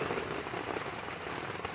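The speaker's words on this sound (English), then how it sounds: "No matter how bad it rains." Steady rain falls outdoors on a bluff while pie cooks, a constant close hiss of drops pattering on a surface with no pauses.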